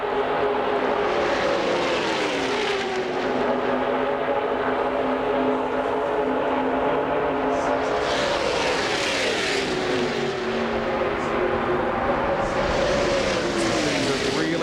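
NASCAR Winston Cup stock cars race at Talladega Superspeedway in 1997, a loud continuous engine roar as packs of cars sweep past in rising and falling waves, with a crowd-like wash beneath.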